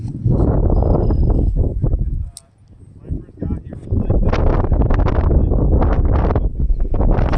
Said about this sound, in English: This is a crazy wind right now.